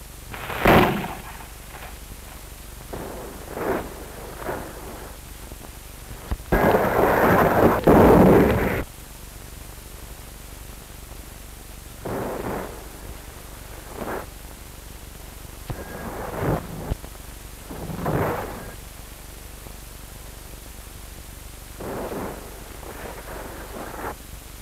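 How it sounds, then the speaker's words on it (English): Artillery shell bursts during a 1950 army division training exercise at Camp San Luis Obispo: a scattered series of dull, distant booms, with one longer roaring burst in the middle, on old, noisy film sound. "as witness the fire pattern and accuracy of these shell bursts"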